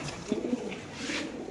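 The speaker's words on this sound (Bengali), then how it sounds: "কবুতরের ডাকটা একটু সময় দেখাচ্ছি" A male pigeon on a pigeon farm gives a few soft, low coos at close range against a faint background hum.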